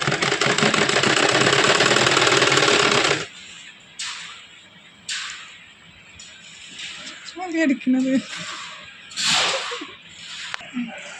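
A sewing machine runs for about three seconds with a loud, dense whir as it stitches folded fabric onto canvas, then stops, leaving quieter handling noises and a voice talking.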